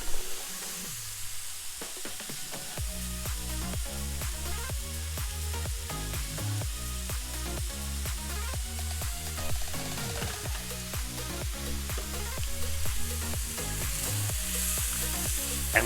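Andouille sausage and paprika frying in a pan for a low-carb jambalaya: a loud, steady sizzle with clinks and scrapes of stirring, starting quieter and then filling out into constant crackling frying noise.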